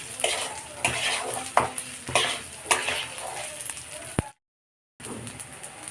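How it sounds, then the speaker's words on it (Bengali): Rice for Basanti polao fries in a pan while a spoon stirs it, giving intermittent scrapes and metallic clinks over a low sizzle, close by, with a brief total dropout near the end. "আমার চালটা ভাজা ভাজা করা হয়ে গেছে।"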